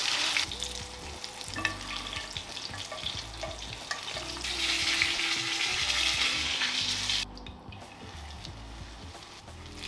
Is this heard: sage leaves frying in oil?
yes